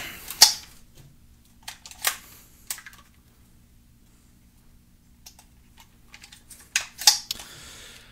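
Dry-fire trigger clicks from .22 rifles, a Smith & Wesson M&P 15-22 and a Mossberg 715T with magazines removed: sharp, close, isolated clicks scattered irregularly over several seconds with quiet gaps between them.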